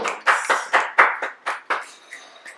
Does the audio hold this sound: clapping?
yes